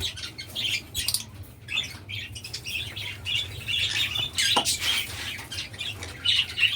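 Dilute lovebird chicks in a colony cage make repeated high chirps and squawks, fairly close, over a low steady hum.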